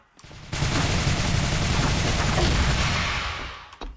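A gun in the shooter game Nizhan (逆战) fires a rapid, sustained burst lasting about three seconds. The dense, loud rattle of shots is followed by a couple of short clicks.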